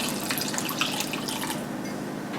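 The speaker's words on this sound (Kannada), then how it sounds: "ಇನ್ನೊಂದು ಲೋಟದಷ್ಟು ನೀರು ಹಾಕ್ತಾ ಇದ್ದೀನಿ" Water is poured into a pot of cooked whole green lentil dal (masoor), making a continuous splashing, trickling pour at close range with no voices.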